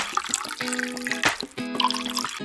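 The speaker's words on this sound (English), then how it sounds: "Simply pour some water into the machine." Water poured into an electric foot massage machine in a makeup salon video game, a short splashing, gurgling pour with tonal game sound effects layered over it, close and fairly loud.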